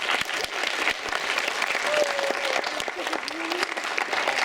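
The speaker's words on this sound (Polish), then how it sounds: "wielkie brawa dla uczestników, dla wszystkich uczestników" At the results announcement of a patriotic and religious song festival, the audience gives participants a lively, continuous round of applause, with a brief whistle or cheer rising above the clapping midway.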